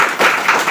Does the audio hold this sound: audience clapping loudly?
yes